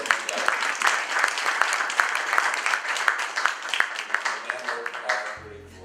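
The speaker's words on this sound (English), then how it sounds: "big round of applause for Chris." A community lecture audience claps warmly for a local historian, a continuous round of applause from a modest crowd that holds steady before cutting off abruptly at the end.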